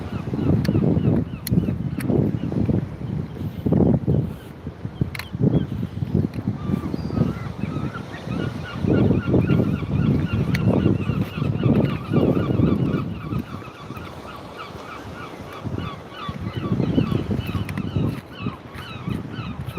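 A large flock of geese flies over a seaside promenade, honking loudly and continuously in overlapping calls, with outdoor wind and footsteps underneath.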